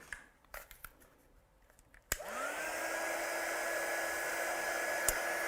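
A heat gun switches on with a sharp click and runs as a steady, loud whine and whoosh, drying craft card after a few quiet taps and handling sounds.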